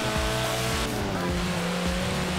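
Lotus Elan 1960s sports car driving in Forza Horizon 4, engine revving up and down through gear changes with a brief tyre squeal, loud and close.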